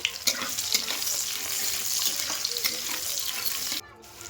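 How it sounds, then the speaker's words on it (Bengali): Onions fry in oil with bay leaf, giving a loud, close sizzle broken by stirring scrapes and spatters, before it abruptly drops to a quieter hiss near the end. "পেঁয়াজগুলো একটু লাল করে ভেজে নেব"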